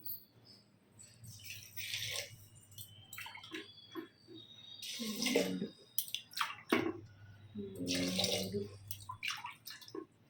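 Water is poured from a glass into a cooking pot for foxtail millet and moong dal pongal in a home kitchen, several separate splashing pours with short pauses between, close and clear, with no talking.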